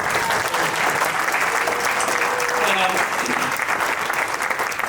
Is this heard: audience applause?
yes